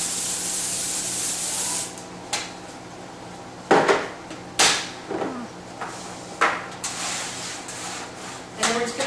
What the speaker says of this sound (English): Just going to spray with the pan cooking spray.